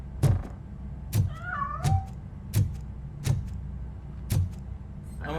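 Cat meowing in the video game Robocop Rogue City on PlayStation 5, a clear close-up series of six short meows spaced about a second apart, with a faint electronic whine drifting between them.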